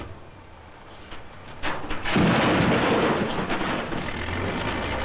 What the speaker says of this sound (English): The shaft is dynamited in 10-foot layers or lifts